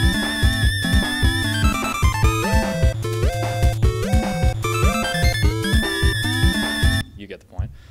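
Upbeat chiptune-style track from the Sonic 3 and Knuckles video game soundtrack, with steady bass pulses, bright synth melody lines and a punchy rhythm playing loudly for about seven seconds before cutting off to near silence.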